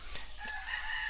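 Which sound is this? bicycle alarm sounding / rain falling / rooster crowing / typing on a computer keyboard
rooster crowing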